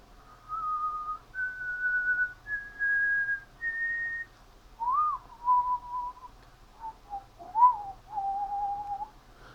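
Someone whistles a slow melody of clear, sustained notes with short pauses between phrases, fairly quiet with no talking.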